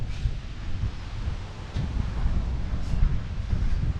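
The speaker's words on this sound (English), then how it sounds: "Sorry about the wind, guys." Gusty wind buffets the microphone outdoors at a scrap yard, a steady low rumble with louder blasts every second or so, with no talking.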